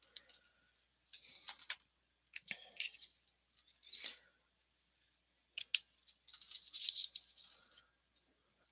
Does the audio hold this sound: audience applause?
no